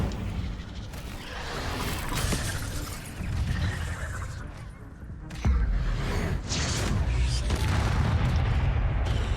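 An Incendio fire spell bursts in a Harry Potter video game amid a dense, loud wash of booming blasts and whooshes, continuous and close, with a brief voice under the din.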